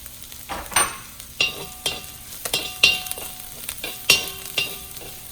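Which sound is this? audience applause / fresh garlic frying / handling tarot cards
fresh garlic frying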